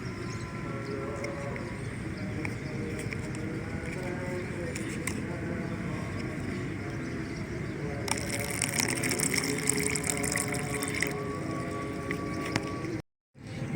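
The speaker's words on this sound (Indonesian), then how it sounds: "Lalu yang ketiga adalah diisi air dari sungai ini." River water gushing into a sample bottle, a continuous splashing wash with a burst of brighter pouring near the end, under steady background noise.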